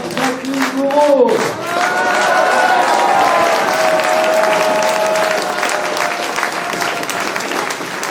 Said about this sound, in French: Un tonnerre d'applaudissements pour Madame Jacqueline Gouraud.